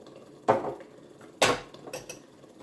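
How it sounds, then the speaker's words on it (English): Pasta sauce stirred in a pot with a utensil, two sharp clanks against the metal followed by lighter scraping knocks, close and otherwise quiet. "And then you just stir it around."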